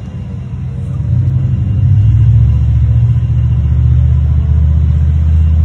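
Urban traffic crossing a bridge produces a loud, continuous low rumble of vehicles that swells slightly and holds steady throughout, with no voices.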